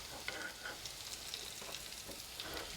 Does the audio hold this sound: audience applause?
no